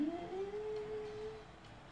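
A cartoonish cat in the mobile game Cat Hotel lets out one long, drawn-out meow that rises and then holds steady, quiet and alone over a soft background.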